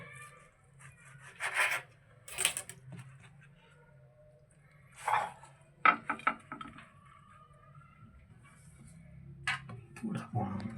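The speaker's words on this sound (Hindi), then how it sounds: "अब आपने ऐसे काट लेना इसको" A knife slicing through a homemade chicken roll on a board, giving scattered soft cuts and taps close by at a quiet level, with gaps between strokes.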